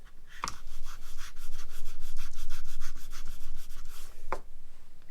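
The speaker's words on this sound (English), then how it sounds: "And then you can just sand them each a little bit at a time until you get it down to where you get a perfect fit." Balsa wood parts for a 1/4 scale Cub model kit being sanded by hand, a steady, close rasping rub in quick back-and-forth strokes that continues for several seconds, with no talking.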